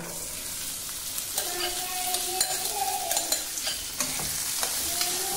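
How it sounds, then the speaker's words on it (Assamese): Peas tipped into a hot pan of browned ingredients, sizzling steadily while a utensil stirs and scrapes in repeated strokes, close and moderately loud with no talk. "এতিয়া মই মটৰখিনি ইয়াত ঢালি দিম"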